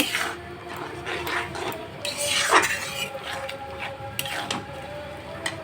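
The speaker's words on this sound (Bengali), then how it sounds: "এটা সুন্দর করে আমি নাড়ব নাড়তে নাড়তে এটা জলটা একটু হবে" Green chili pickle being stirred in a pan: a steady scraping and clinking of a utensil against metal, with a soft wet sizzle underneath and faint voices in the background.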